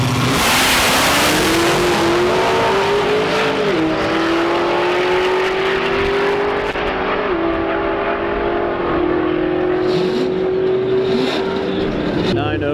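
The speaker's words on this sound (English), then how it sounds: "Underground Racing Lambo." Underground Racing twin-turbo Lamborghini launching in a drag race at a TX2K event, a loud, close engine scream climbing in pitch through quick gear shifts over crowd and track noise.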